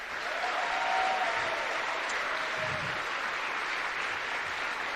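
Sustained audience applause fills a hall at a Formula SAE electric-vehicle competition awards ceremony, a steady dense wash of clapping from a large crowd with no talk over it.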